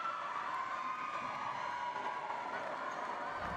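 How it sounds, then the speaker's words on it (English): A packed futsal arena crowd at the PFF Futsaliga finals roars steadily through the final seconds of the match, a dense wall of mingled voices and shouting that never lets up. "The crowd counting us down, but they know it's a stop time."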